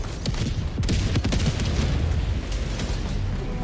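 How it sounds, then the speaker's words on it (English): Mortar shells exploding nearby in Helldivers 2, a dense run of heavy booms and blasts packed together across the whole stretch, loud and close, with no talk over them. "careful, mortars coming in close"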